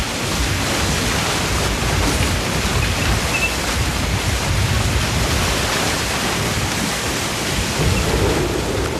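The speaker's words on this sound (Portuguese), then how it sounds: "Eles trouxeram enormes bombas d'água e por vários dias borrifaram a lava" Huge water pumps spray millions of litres of seawater onto flowing lava, producing a loud, unbroken roaring hiss that holds steady from start to finish with no one speaking.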